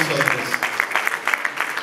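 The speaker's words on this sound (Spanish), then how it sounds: "recibamos con un aplauso a mi hermano Salvador Adames" A church congregation welcomes Salvador Adames with applause, a brief burst of clapping mixed with voices speaking and calling out over it.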